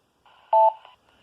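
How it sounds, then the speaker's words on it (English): A short electronic radio repeater courtesy beep, one steady tone that briefly alternates in pitch in a wigwag before cutting off, clean and isolated. "they're both going to come back at me with the courtesy beep"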